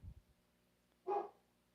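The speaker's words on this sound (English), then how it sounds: "And my dog Copper is upset." An upset dog in a home gives a single short, sharp bark, moderately near, after a brief low thump, with quiet around it and no talk.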